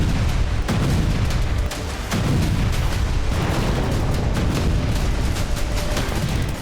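Heavy explosions from Russian targeted strikes on the Ukrainian army in Kursk form a continuous rolling rumble. Dense booms and blasts overlap and follow close on one another.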